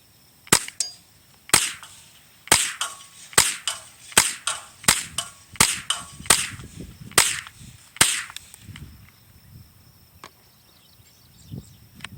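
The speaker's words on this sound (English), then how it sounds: "Blast a couple more rounds off out this thing." A Marlin 795 .22 LR rifle fires about a dozen sharp, loud shots outdoors in a quick, slightly uneven sequence, each crack followed by a short echo, then the shooting stops and quieter sounds follow.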